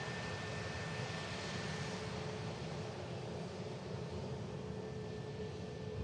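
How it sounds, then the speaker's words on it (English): EasyJet airliner landing on runway 23 right at Manchester Airport, a faint steady distant engine rumble with a thin high whine, continuous and unbroken, no voices. "Big flare from the EasyJet as it lands"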